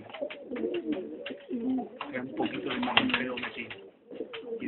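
A pigeon hen of the old Córdoba line coos in close, repeated throaty rolls, with soft rustling and faint clicks between the calls.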